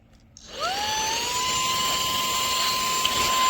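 An AUXITO cordless car vacuum cleaner switched on and run as a blower, its motor quickly spinning up to a loud, steady high-pitched whine with a rushing airflow that holds close and even.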